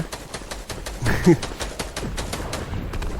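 A pistol fires in a Fortnite match as a rapid series of sharp shots crackles at a steady pace. There is a brief louder burst in the middle, and a voice talks over the gunfire.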